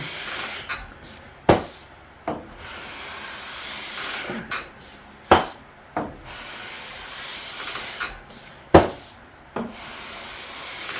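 A 5-string GL bass guitar body being hand-sanded with 320-grit paper gives soft, hissing rubs, with sharper strokes recurring every few seconds and quieter strokes in between.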